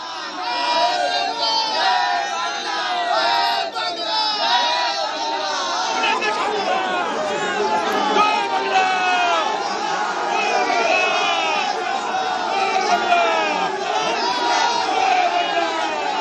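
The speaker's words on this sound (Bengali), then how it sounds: "অর্জুনের বাড়ির সামনে স্লোগান তৃণমূলের, সেই ছবি দেখাচ্ছি।" Trinamool supporters chant political slogans outside Arjun's house in Bhatpara during a tense standoff, a dense crowd of many voices shouting and chattering continuously at steady loudness throughout.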